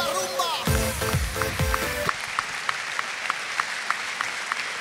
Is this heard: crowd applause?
yes